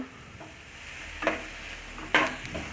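Spices with turmeric and cumin powder sizzle softly in a pan for a prawn and ridge gourd stir-fry, with a low steady fry and two or three sharper scraping strokes of a spoon, no talking.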